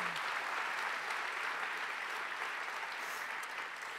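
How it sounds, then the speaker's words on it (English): Audience applause at a St. Louis Cardinals exhibit opening at a presidential center, a steady even roar of many hands clapping, fairly distant and continuous throughout. "Let's give them a big round of applause."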